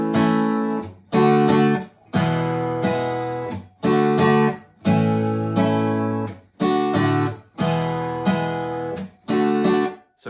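Guitar chords of a song's progression in A, struck in loud rhythmic bursts that ring out and fade between hits, close and alone with no talking.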